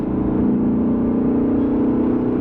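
A 2020 Lexus RC F Track Edition's engine pulls hard under acceleration on an open road, a loud, close, steady roar with a rich low growl.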